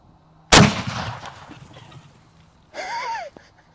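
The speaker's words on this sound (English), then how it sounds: "I'm gonna shoot it with the slug, see what happens." A shotgun slug fired into a block of Play-Doh gives one sharp, loud blast that decays over a couple of seconds, followed by a brief animal-like squeal.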